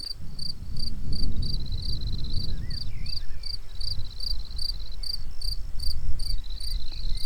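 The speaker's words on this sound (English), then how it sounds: "All you can hear are the cricket." Crickets chirping in a steady pulsing trill at a campsite garden in France, a high rhythmic buzz running throughout over low outdoor rumble and wind, with faint distant bird calls.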